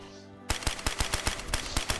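Rapid, evenly spaced gunshots in the survival game DayZ, about a dozen close, loud cracks fired in quick succession after a quiet moment.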